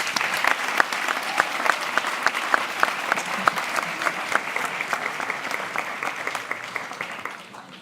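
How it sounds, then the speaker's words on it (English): Conference audience applauding panelists, sustained hearty clapping with distinct individual claps popping out over a dense wash, holding steady for several seconds before tapering off at the end. "A big round of applause for them."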